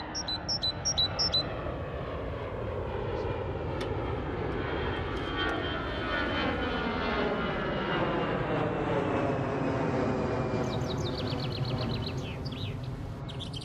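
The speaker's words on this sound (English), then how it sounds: "the noise of planes" A propeller or jet airplane drones steadily overhead, its engine pitch slowly sliding as it passes, while a few birds chirp faintly in the background.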